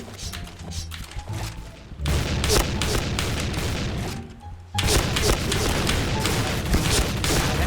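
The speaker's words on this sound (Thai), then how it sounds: "นายยิงเรามาหนึ่งนัด เราสวนนายเป็นสิบสิบนัดเลยน้องเว้ย" Rapid gunfire bursts from the online shooter Point Blank, dense overlapping shots with heavy booms, pausing briefly around the middle before resuming just as loud and continuous.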